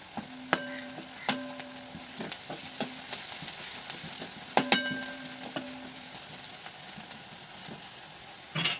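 Takla (a leafy vegetable) frying and being stirred in a pan, with a steady close sizzle and a few sharp metallic clinks of the spatula against the pan.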